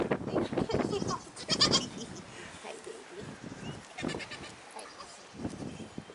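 Goats bleat repeatedly on a farm on a windy, stormy day, several short cries near and at mid-distance, some overlapping, mixed with background noise.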